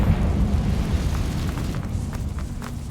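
A Confringo fire spell bursts in Hogwarts Legacy, a sustained rumbling blast with crackling debris over a heavy low roar, loud and close.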